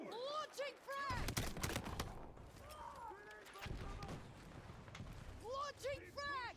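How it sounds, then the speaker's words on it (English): In the video game Battlefield 6, a frag grenade launches and explodes in a loud run of heavy blasts between stretches of shouted voices. "Launching frag!"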